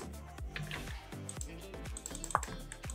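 Quick, close keystrokes on a computer keyboard as a password is entered, a short irregular run of soft clicks at low volume with no talking.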